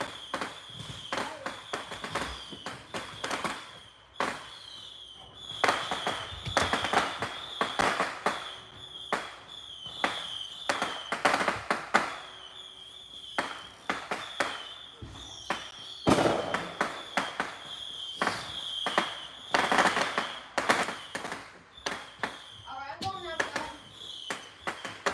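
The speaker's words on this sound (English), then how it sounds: "You want to see the fireworks?" Fireworks and firecrackers crackle and pop in dense bursts, some sharp and near, others farther off, continuing steadily with occasional voices in the background.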